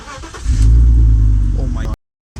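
A BMW E46 320ci with a straight-pipe exhaust and its muffler deleted revs loudly for about a second and a half, a deep raw roar close by, with voices around it and a brief cutout near the end.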